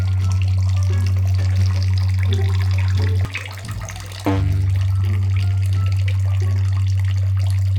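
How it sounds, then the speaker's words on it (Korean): Water running steadily from a tap into a small soju glass, a continuous loud stream with a brief dip in flow partway through before resuming. "물이 받아집니다"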